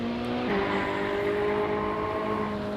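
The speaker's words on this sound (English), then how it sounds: "So Yannick Pletcher taking us through a lap of Spa in the Ferrari safety car." A Ferrari safety car lapping the Spa circuit in a racing video game, its engine a loud, steady tone that shifts pitch once early on and then holds a sustained harmonic whine throughout.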